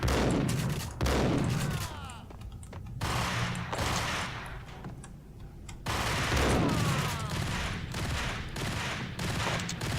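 Gunfire in the Max Payne video game rattles in dense, loud bursts of rapid shots with a couple of brief pauses, close and punchy, with no talk over it.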